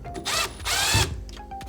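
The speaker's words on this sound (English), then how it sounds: "we're going to take either our Phillips head driver or the Phillips head screwdriver and remove the perimeter screws that are holding the top of the sauna down" A Phillips-head power driver removes the perimeter screws holding down the lid of a home infrared sauna, giving two short whirring bursts close by with a brief pause between them.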